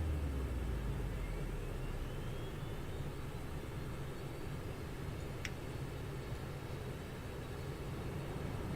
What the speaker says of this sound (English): the right engine is spooling as well